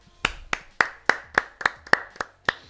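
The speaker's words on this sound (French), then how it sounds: "Applaudis-toi s'il te plaît." One person on a French talk show set claps alone in a steady, unhurried rhythm, about nine crisp, close hand claps spaced roughly a quarter second apart, with no talk over them.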